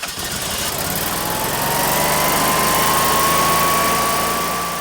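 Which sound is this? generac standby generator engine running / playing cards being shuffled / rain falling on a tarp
generac standby generator engine running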